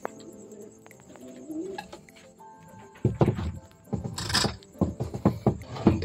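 Racing pigeons coo and shuffle in a training box during night preparation for a North race, soft murmurs giving way to a series of thumps and wing flutters up close.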